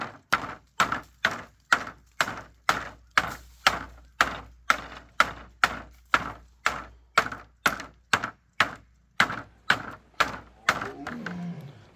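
Wooden sticks or boards knocked together steadily in a forest to frighten off a tiger, about twenty sharp, loud, close knocks at an even brisk rhythm, each with a short hollow ring, no talk over them.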